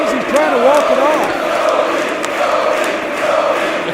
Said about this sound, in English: The crowd getting behind Rhodes.